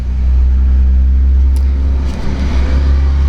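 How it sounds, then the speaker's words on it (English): A bus passes by outside, a loud, steady low rumble of engine and road noise filling the whole stretch, with no voices. "I'm sorry about that bus just going by."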